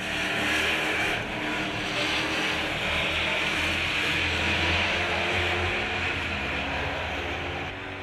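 NASCAR Whelen Euro Series stock cars roar past in a race, a loud continuous engine drone with rising and falling pitch as several cars run close together.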